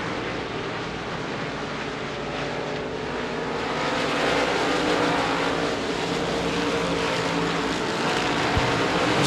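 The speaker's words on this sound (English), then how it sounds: "Josh Short off the speedway in the J2 car" Limited modified race cars at Devils Bowl Speedway roaring around the dirt oval, a steady loud wall of engine noise that swells slightly midway, with no talk.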